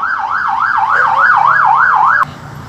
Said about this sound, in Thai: ครับรถไซเรนมา